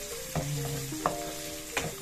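Garlic and onion sauté in a pan, a steady low sizzle broken by a few sharp stirring clacks, close and fairly quiet with no talking.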